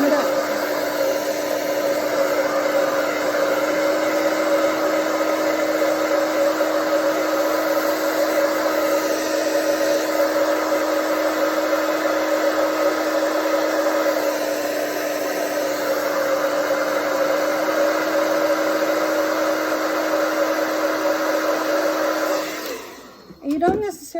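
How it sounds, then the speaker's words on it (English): Blow dryer warming a clay flowerpot decoration runs as a loud, steady whooshing drone with a constant motor hum for most of the stretch, close by, then cuts off abruptly near the end. "what I do is I take my blow dryer and I just warm it up."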